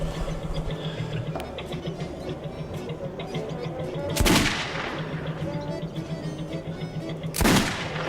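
Two loud, sharp gunshots about three seconds apart, fired at rats in the underground tunnels of the game Metro 2033 Redux, each cracking out over a steady low mechanical hum.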